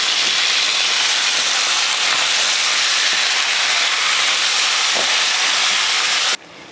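A kilo of chicken with tomatoes, turmeric and salt is stirred into a hot masala in a pan, giving a loud, steady sizzling hiss that cuts off abruptly near the end.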